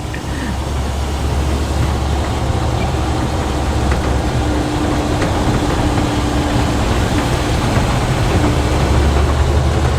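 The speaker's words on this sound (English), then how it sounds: "Downshift sounds so funny with the open intake." Classic car with an open intake, its engine giving a steady, loud low rumble that holds through the whole stretch without clear breaks.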